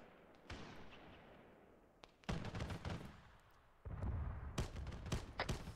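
Gunfire in a military video game set in East African woods, with sharp broadband cracks and bursts of shots, some sparse and some clustered, over a low rumbling background.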